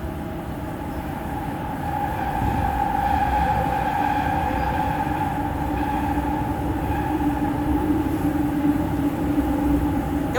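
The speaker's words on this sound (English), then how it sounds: "It was probably a mistake to record this while in the subway" Subway train riding through an underground tunnel, a steady loud rumble with droning tonal hum and wheel noise that swells slightly after the first couple of seconds and holds constant, no voices.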